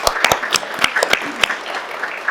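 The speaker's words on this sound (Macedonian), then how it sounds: "Така да ве моламе да аплауз за авторот И за промоторот." A short burst of applause for an author and promoter at a book promotion, with sharp, uneven individual claps from a modest audience and no talk over it.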